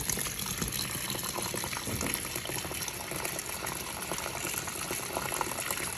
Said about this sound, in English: We're re-turning the water back on to do the rinse cycle.